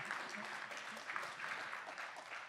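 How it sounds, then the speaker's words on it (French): Audience applause for a bass trombonist at a big band concert, a dense steady clapping from a crowd at moderate distance, heard faintly. "Applaudissez-le bien fort."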